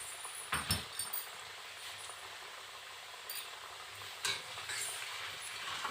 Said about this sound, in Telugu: ముక్కలన్నీ కూడా మనము గోల్డెన్ కలర్లో వచ్చేంతసేపు ఫ్రై చేసుకోవాలండి.